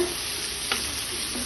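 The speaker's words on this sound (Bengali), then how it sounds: "মরিচটা ভাজা হয়ে গেছে, এখন নিয়ে নিব।" Green chilies fry in a pan with a soft, steady sizzle and one brief stir or scrape midway, close and alone.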